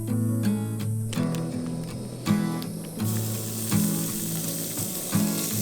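Pancetta, red peppers, spring onions, tomatoes and scrambled eggs frying outdoors at a roadside camp, a loud continuous sizzle over a droning mechanical whir that pulses with repeated ratcheting clicks.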